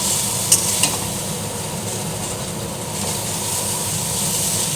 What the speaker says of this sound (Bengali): দেখো ভাজা ভাজা হয়ে গেছে, সব ভাজা ভাজা হয়ে।